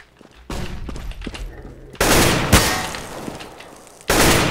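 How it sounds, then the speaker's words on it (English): Shotgun blasts in Counter-Strike: Global Offensive, three loud, sharp bursts a second or two apart, each with a short rumbling tail, close and dominant with no talk over them. "Eco, it's a shotgun."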